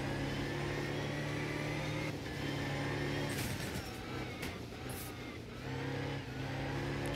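Rally car engine in the racing game Art of Rally drones loudly and steadily throughout, its pitch rising and falling as the throttle is worked, with bursts of gritty noise in the middle and no voices over it.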